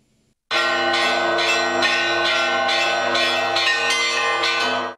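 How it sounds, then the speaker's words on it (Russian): Church bells of the Peter and Paul Cathedral in Kazan ringing on Christmas night, a loud, rich peal that starts abruptly after a brief silence and keeps up rhythmic overlapping strikes with long ringing tones. "Колокольный звон, свет от куполов и светлые улыбки на лицах."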